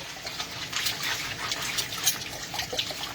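Water running from a household tap in a steady, close, fairly loud hissing stream, with no one talking.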